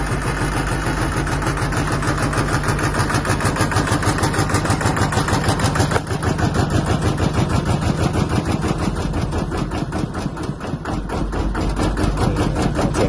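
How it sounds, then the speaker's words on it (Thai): A Kubota ET110 single-cylinder diesel runs on a Thai farm cart (rolling chassis), chugging with a steady, close, loud rapid beat that never lets up, rough and knocking throughout. "นี่ฟังเสียงเครื่องฮะฟังเสียงเครื่อง"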